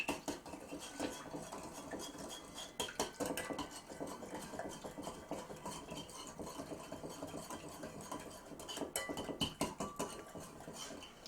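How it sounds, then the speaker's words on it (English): A salad dressing with a dash of sugar is whisked briskly in a bowl for a submarine-sandwich-style salad, giving a steady run of quick, close metallic clicks and scrapes with a few louder bursts. "And I want to do a little dash of sugar. We'll whisk that together."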